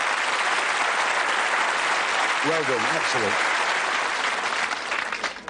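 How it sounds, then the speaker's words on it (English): Studio audience applause for contestants on the 1989 Bullseye game show: a loud, dense, sustained clapping from the crowd, with a voice speaking briefly over it partway through. "Round of applause for our contestants."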